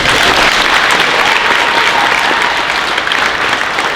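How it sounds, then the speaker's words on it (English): Loud, dense applause fills a high school class night ceremony for the graduating class of 2025's top honors students, continuous clapping from a large audience throughout. "one more big round of applause for your class of 2025 top honors"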